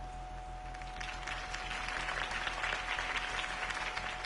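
A crowd applauds after a campaign speech for Harvey Dent in the Telltale Batman video game, steady clapping that swells slightly and holds for several seconds.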